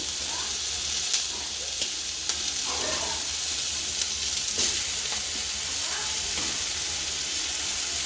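Tomato fries in a pan for a Gowda-style mutton saaru. A continuous, close, hissing sizzle runs throughout, with scraping stir strokes and light pops scattered over it.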